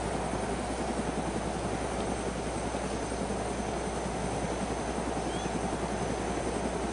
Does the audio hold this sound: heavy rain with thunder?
no